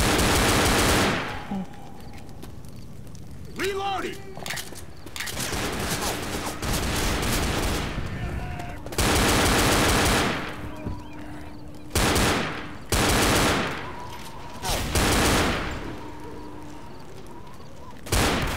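Gunfire in the zombie shooter game Left 4 Dead, with rapid automatic bursts and separate shots in irregular clusters, loud and close, separated by short quieter gaps.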